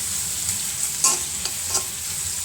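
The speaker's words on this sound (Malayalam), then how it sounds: "പാവയ്ക്ക മെഴുക്കുവരട്ടിക്ക് അടുപ്പത്തിട്ടുണ്ട്" Bitter gourd stir-fry cooking in a pan on the stove, a steady close sizzle of frying with a few sharp stirring scrapes.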